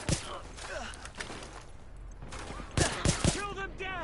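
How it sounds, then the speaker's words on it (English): Submachine gun bursts in The Division, a shooter set in New York: rapid crackling fire at the start and loud shots near the end, with shouted voices mixed in. "Gunfire. Sounds like a submachine gun."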